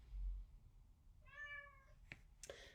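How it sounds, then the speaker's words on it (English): A pet cat named Eugene gives a single loud, drawn-out meow, calling insistently as if asking for dinner, clear and close in a quiet indoor room. "He's a very loud meower."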